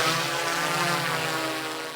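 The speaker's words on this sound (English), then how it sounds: "the drone is in the air" A thermal drone flying overhead, a steady loud propeller buzz with layered whining tones that holds for the whole moment and fades slightly at the end.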